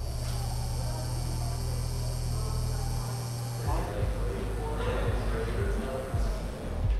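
Cheap layered composite cookware on an induction stove gives off a steady low electrical hum and buzz that stops partway through, followed by faint clinks and room noise.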